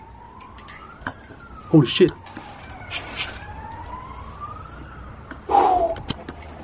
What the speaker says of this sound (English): Probably an ambulance.